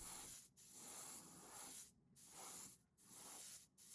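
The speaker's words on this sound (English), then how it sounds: "To imply a light source coming from above, I like to spray at about a 45-degree angle." Close, steady hiss of an aerosol spray paint can spraying a model figure in several bursts with short gaps between them, no voices.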